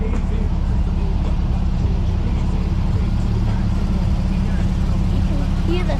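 A Porsche sports car's engine gives a low, steady rumble as the car pulls out at a car dealership event. The rumble is close and continuous, with people talking nearby.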